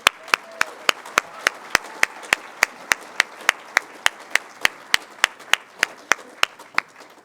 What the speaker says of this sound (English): Please join me in a round of applause for our presenting sponsor, Fagundes Dairies, Farms,